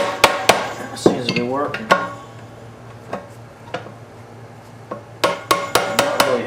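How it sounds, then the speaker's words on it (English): A screwdriver wedged behind a part on the shaft of a Maytag 72 engine during teardown gives a series of sharp metallic clicks and knocks, irregular at first and then a quick cluster near the end, with someone speaking briefly in between. "I got a screwdriver in behind it and I'm just wedging it down here"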